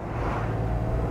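A 1955 Mercedes 300 b Cabriolet D Adenauer engine idles with a steady low rumble, close by and continuous, with some wind noise and no talking.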